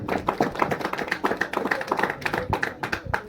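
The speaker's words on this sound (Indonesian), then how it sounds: "Tepuk tangan untuk Pak." Applause from an audience at a school jamboree gathering, a steady patter of many hands clapping close by for a few seconds.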